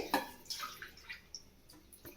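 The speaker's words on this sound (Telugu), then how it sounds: "నేను 4 గ్లాసులకండి బియ్యానికి 5 గ్లాసుల వాటర్ పోస్తుందండి" Water is poured by the glassful into a pot of rice for Hyderabadi-style bagara rice. A few faint, brief splashes and trickles come close by in a quiet kitchen.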